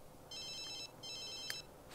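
A ringing phone in the video game The Sims 3 trills in two long electronic bursts separated by a short pause, moderately clear over faint background, with a brief click near the end.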